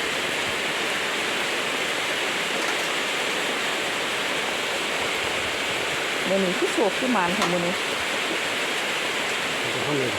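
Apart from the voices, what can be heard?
rain falling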